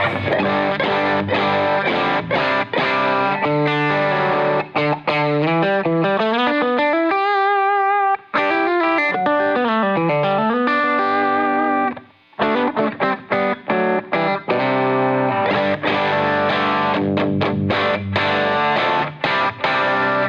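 Loud, heavily compressed distorted guitar through wet effects into a dirty amp, playing dense chords, a swooping filtered passage midway, then chugging chords resuming with brief stops.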